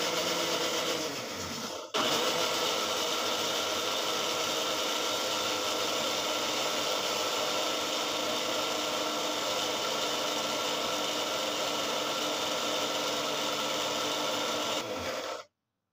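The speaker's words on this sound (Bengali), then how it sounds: "তো ব্লেন্ডারে দিয়ে এখন আমি ব্লেন্ড করব।" An electric blender whirring steadily to make burger mayonnaise from oil. It starts after a short pause, runs close and continuous for about thirteen seconds, then stops abruptly.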